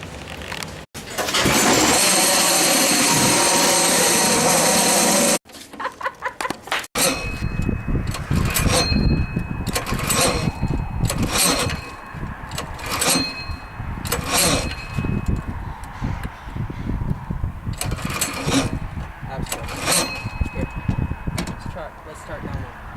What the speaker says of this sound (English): we're going to try and start it inside the shop to see if we can get the clutch to cooperate